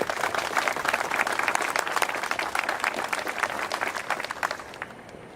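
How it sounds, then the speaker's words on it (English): Outdoor audience at a military honoring event in San Antonio applauding to welcome the mayor to the podium, a dense, steady round of clapping that fades slightly at the end. "Please join me in a round of applause to welcome him up to the podium"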